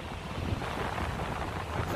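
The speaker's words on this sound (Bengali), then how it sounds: "আর এই গর্জনটা একটু শুনুন সমুদ্রের" Sea waves roar onto an English beach in a steady, dense wash of surf mixed with wind buffeting, close and continuous, with no voices.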